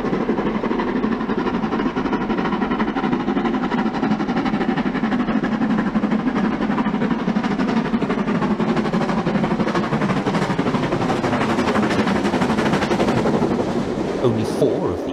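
LMS Black Five steam locomotive running on the line, a loud, continuous rapid chuffing and rattling of the engine and its train throughout, close and steady.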